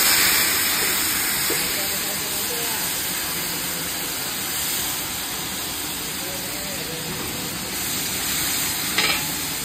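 Black cumin seeds fry in a pan with a steady, close sizzle and hiss that holds throughout, with occasional stirring scrapes.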